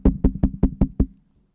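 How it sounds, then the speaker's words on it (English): Six evenly spaced knocks rap on a door, sharp and close, in a quick steady rhythm, then silence. "by the time he knocked on the door"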